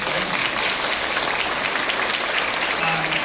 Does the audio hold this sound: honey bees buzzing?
no